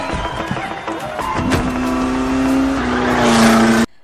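Race cars starting the 24 Hours of Le Mans, loud revving engines with rising whines and a sustained high-pitched roar as they accelerate away, ending abruptly.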